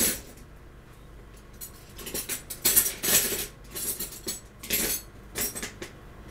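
A metal spoon is put away in a home kitchen drawer, with a series of bright clinks and rattles of cutlery knocking together, close and fairly loud.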